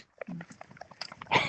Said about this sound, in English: here comes a dog who doesn't jump off at me